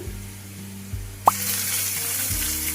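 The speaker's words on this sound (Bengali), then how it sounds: "এই দেখো আলুগুলো আমার হাফ ভাজা হয়েছে। আমি এই সময়ই দিয়ে নেব আগে থেকে কেটে রাখা পেঁয়াজ কুচি" Potatoes half-fried in a pan with chopped onion just added for a fish-bone chorchori, a steady close sizzle that swells after a brief plop and stirring clink, with a low hum underneath.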